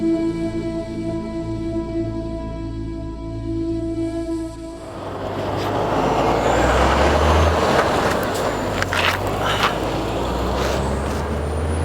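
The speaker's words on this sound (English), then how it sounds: "Well, that's the bus leaving." A bus idles with a steady humming engine tone, then pulls away with a loud surge of engine and road noise, a hiss of air brakes, and a fading rumble.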